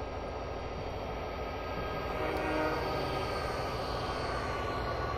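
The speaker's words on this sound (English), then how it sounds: "train we saw moving earlier, the container freight 1642." Container freight train 1642 of the Castle Rock Railroad passes close by with a steady, loud rumble and rolling rail noise throughout, with no voices.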